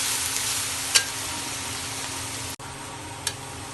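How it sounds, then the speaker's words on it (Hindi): Garlic and ginger brown in a hot pan, giving a steady close hiss of frying with a couple of brief stirring scrapes and no talk. "अब इसको नाज़रीन ब्राउन करेंगे लहसुन अदरक को तकरीबन"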